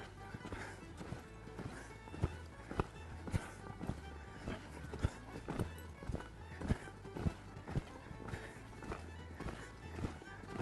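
Rhythmic hoofbeats of a young horse cantering thud in a steady three-beat rolling pattern, close by, with faint background noise and occasional voices.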